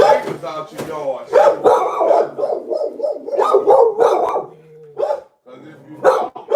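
Dogs at a dog breeding business bark in loud, irregular bursts close by, mixed in with people talking.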